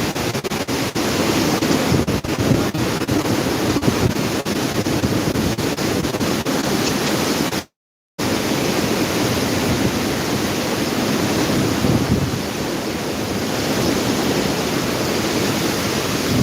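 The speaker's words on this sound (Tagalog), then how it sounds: "May lalakas na pala yung nakita ko kaninang hangin." Strong typhoon wind during Typhoon Uwan in Camarines Sur, Bicol, under signal no. 5, roars as a loud, steady broadband rush with gusting texture, broken by a brief cut near the middle, with no talking.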